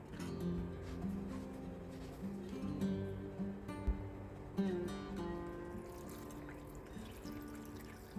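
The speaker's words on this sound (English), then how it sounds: "I'm just gonna rinse this off really good, just to take off the dirt that it has on your sweet potato" Running tap water rinsing a dirty sweet potato in a kitchen, a steady trickle and splash with shifting pitch as the tuber is turned under the stream.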